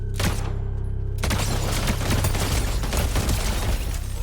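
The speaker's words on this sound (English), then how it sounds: "A shot nearly topples him." Gunfire in the Fortnite video game, heavy and continuous, with bursts of shots and booms layered over constant game noise and music.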